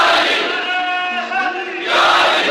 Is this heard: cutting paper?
no